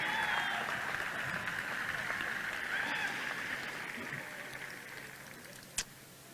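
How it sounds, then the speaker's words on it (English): Audience at the Tigard High School 2018 graduation ceremony applauding, a steady hiss of many hands clapping that slowly fades, with a sharp knock near the end. "Give yourselves a round of applause."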